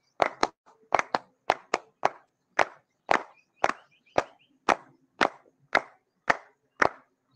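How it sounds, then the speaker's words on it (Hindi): Fifteen sharp hand claps from a group at a yoga session, struck in an even, steady rhythm, each clap crisp and close with silence between them. "ताली बजाएंगे 15 बार।"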